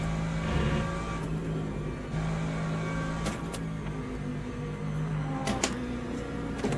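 LMP2 prototype race car passing in Le Mans Ultimate on a crowded 62-car grid, a steady engine drone with whining gear tones and brief sharp bursts, heard alone without talk.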